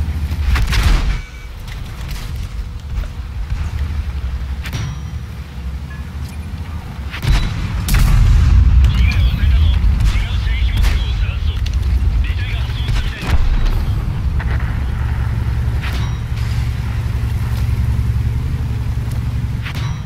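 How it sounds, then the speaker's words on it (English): Tank cannon fire in World of Tanks, with an M7 repeatedly shooting: heavy booms and rumbling impacts land over a constant engine drone, loudest around the middle, with a voice talking over parts of it. "Is that M7 ever going to stop shooting at me?"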